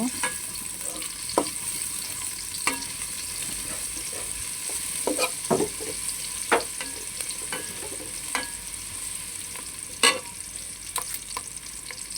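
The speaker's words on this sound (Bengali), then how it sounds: "দিয়ে দিলাম পেঁয়াজ কুচি পেঁয়াজটাকে একটু ভালো করে ভেজে নেব" Chopped onions fry in a pan for vegetable khichuri. A steady sizzle runs under sharp scraping and tapping from a stirring utensil at irregular intervals, close by with no speech.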